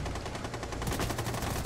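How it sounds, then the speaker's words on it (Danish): Gunshots in a video game: a fast, loud, continuous string of rapid-fire shots, like automatic weapons, with the rhythm quickening and sharpening in the second half. "Du ser, hvor mange skud jeg ramte med, Kasper."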